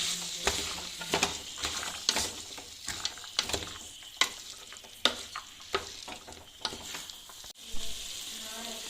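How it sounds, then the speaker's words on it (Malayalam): Banana stem pickle stirred in an oily pan, a spoon scraping and tapping in repeated strokes roughly every second over a continuous soft sizzle. "ഇനി ഒന്ന് കൂട്ടി ഇളക്കാവേ"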